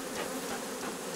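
Carniolan and Buckfast honey bees swarm around a hive during migratory beekeeping, a dense, steady buzzing that fills the air without pause.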